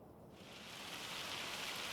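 Steady rain in Farming Simulator 25 falls as a dense, continuous hiss that swells slightly after the first moment and then holds even and loud, with no voices over it.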